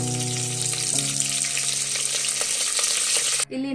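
Whole spices, cloves, cinnamon, cardamom and bay leaves, frying in hot oil in a pan: a steady, loud crackling sizzle with no talk, cut by a brief clank of a utensil near the end.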